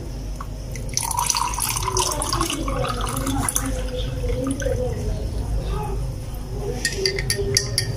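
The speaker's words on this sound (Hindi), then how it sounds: "इसमें आप पानी ऐड करेंगे।" Water poured from a jug into a glass of homemade Rooh Afza sharbat, a steady trickling splash running several seconds with a few drips, close by and fairly loud.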